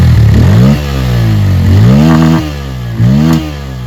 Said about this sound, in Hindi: अब समय है इसके एग्जॉस्ट को सुना जाए